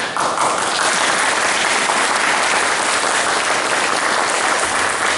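Sustained, dense applause from an audience filling the hall at a mock doctoral ceremony, loud and steady throughout with no pauses.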